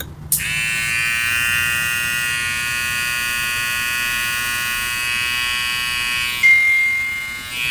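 A Brdclip 107 electric hair trimmer rated at 8,000 RPM runs close by, giving a steady, high-pitched buzzing whine that holds constant, with a brief shift in tone near the end.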